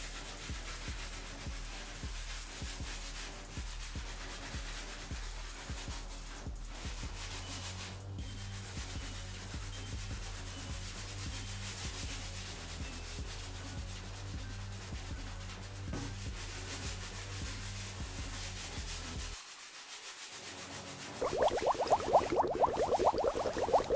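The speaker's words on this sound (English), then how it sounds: "We're gonna use our soft bristle brush." Soft bristle brush scrubbing foamy cleaner over the uppers of Nike Air Jordan 6 Retro "Sport Blue" sneakers, a steady close rubbing swish that carries on for most of the clip and turns louder and brighter near the end.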